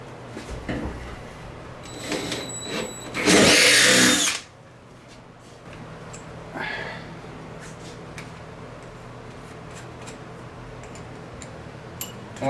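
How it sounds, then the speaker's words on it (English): A power drill runs during a fuel upgrade on a 4BT-swapped bullnose Ford F-150, with one loud, harsh burst of about a second, then faint ticks and low shop background. "Lube up our drill here"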